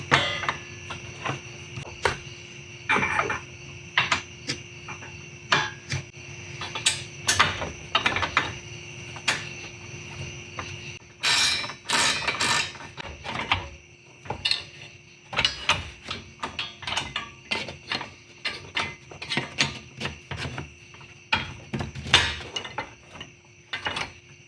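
A ratchet or wrench clicks and metal parts clank while bolts are tightened on a MOLLE panel inside a Jeep Gladiator, in irregular bursts of close, fairly quiet mechanical ticks and knocks over a faint steady hum.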